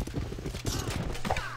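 Units open fire in a Civilization 5 battle, a rapid, crackling volley of gunshots that runs steadily through the moment, with a voice faintly present underneath.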